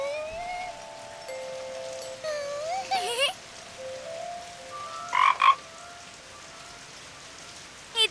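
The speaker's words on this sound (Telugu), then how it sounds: "నువ్వు కప్పలా శబ్దం చేస్తున్నావా?" Cartoon frog croaks in short bursts over a soft bed of rain, two distinct croaking episodes against a quiet backdrop with high whistly tones.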